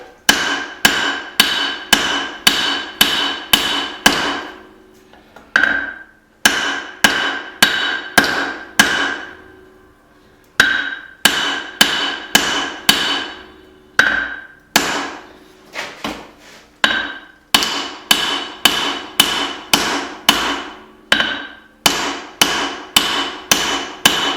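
Hammer blows on hot steel while forging a hatchet, ringing metallic strikes in rapid bursts of five to eight with short pauses between runs, close and loud.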